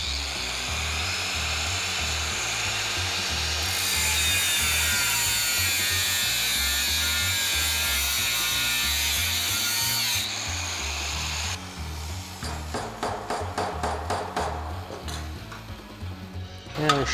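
A power tool, likely an abrasive cutoff, trims the end off a bent rectangular metal tube, giving a loud, steady high-pitched whine over a motor hum. The whine then stops and a series of short, rattling bursts follows, with no talk.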